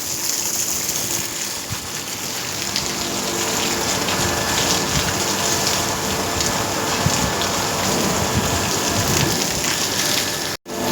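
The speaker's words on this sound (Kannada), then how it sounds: "ಮಳೆ ಬರ್ತಾ ಇದೆ. ರಾತ್ರಿ 3 ಗಂಟೆಯಿಂದ ಬರ್ತಾ ಇರೋ ಮಳೆ" Heavy rain falling steadily and loudly through the night near a dairy gate where milk trucks are loaded, a dense continuous wash with no clear thunder, cutting off abruptly near the end.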